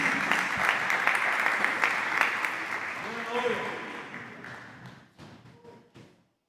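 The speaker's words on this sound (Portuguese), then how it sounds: "Uma salva de palmas a Cristo Jesus." Church congregation clapping in praise during a service, a loud burst of crowded applause that thins into scattered claps and fades out, with voices mixed in toward the end.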